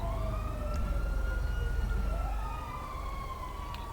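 A video game ambulance siren wails, sweeping up and down continuously, loud and close, with a steady low rumble of traffic underneath.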